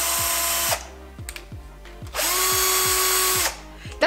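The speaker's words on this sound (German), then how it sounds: "Den Akkuschrauber ran und ganz leicht ziehen. Dann mit langsamer Geschwindigkeit immer hin und her drehen." A cordless drill turns an engine valve back and forth for valve lapping during a cylinder head overhaul. Short bursts of motor whine alternate with rhythmic ratcheting clicks, loud and close.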